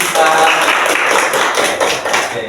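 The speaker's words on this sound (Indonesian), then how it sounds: "Tepuk tangan dulu Mbak Siva." A group claps hands together during a group activity therapy session, a dense, steady patter of many hands filling the clip without a break.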